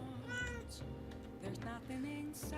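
A pet cat gives a faint meow indoors, quiet and brief against a low background hum, with no one talking.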